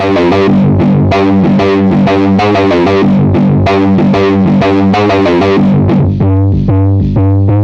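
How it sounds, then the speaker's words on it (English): Synthesizer played through a stereo distortion effect, with dense harmonic chords and rapid repeated notes that stay loud and saturated throughout, no voices. "we've got a really interesting, unique stereo distortion"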